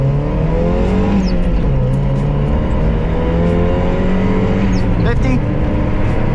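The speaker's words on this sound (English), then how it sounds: "We're going to floor it and get a 0 to 60 here." A Mazda Miata launches from a stop sign at full throttle, its engine note climbing loudly and continuously through the gears up close, with brief higher squeals and a short shift break mid-run.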